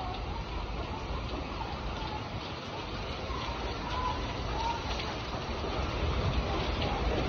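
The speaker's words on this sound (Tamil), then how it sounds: "இன்னைக்கு ஒரு பயங்கரமான மழை ஃப்ரெண்ட்ஸ்." Heavy rain pouring down in Balotra, a dense, steady hiss of falling water that holds evenly throughout and swells slightly toward the end, with no talk.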